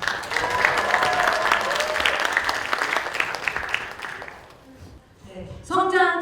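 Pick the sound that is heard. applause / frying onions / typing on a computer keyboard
applause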